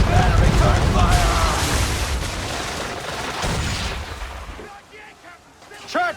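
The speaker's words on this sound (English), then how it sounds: "Prepare to return fire!" Ship cannon fire in Assassin's Creed III: heavy booming volleys over a rumbling sea-battle din, loud at first and then tapering off, with shouting voices throughout.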